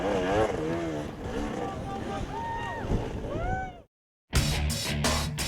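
A Christini KTM all-wheel-drive motorcycle races, its engine revving up and down in wavering pitch under a voice, then a short silence before more bursts of engine noise.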